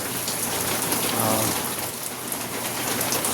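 Steady heavy rain patters close by on a Yamaha NMAX scooter, a dense hiss of drops; a brief exclamation is heard once.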